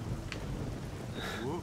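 Rain and thunder in the fantasy video game Fable Anniversary, a constant loud rush of rainfall with a low rumbling roll underneath and brief higher tones, continuous across the short stretch.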